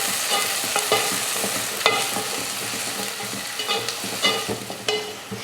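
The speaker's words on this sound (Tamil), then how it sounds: "இப்போ வதக்கிடலாம்." Finely chopped small onions and six or seven chopped garlic cloves sizzle in a hot pan, with a spoon scraping and stirring in irregular close clacks over a constant frying hiss.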